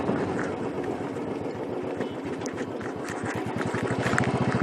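A Royal Enfield Classic 350 single-cylinder motorcycle runs during a running-in session, its engine giving a steady, low, rapid thumping pulse close to the microphone, with wind rushing over it and no voices.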